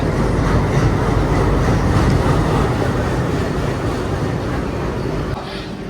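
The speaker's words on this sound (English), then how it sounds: "now our train will get departed" Deep rolling rumble of a Vande Bharat Express train in motion between New Jalpaiguri and Guwahati, steady and loud, with low clattering and a faint hiss throughout.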